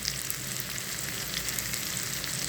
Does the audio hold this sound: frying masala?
yes